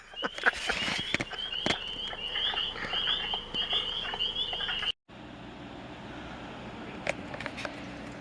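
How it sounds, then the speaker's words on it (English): Spring peeper tree frogs calling in early spring, a chorus of high, rapid peeps repeating over several seconds with occasional thumps, before cutting to a quieter outdoor background. "That's the sound of spring. Those tree peepers."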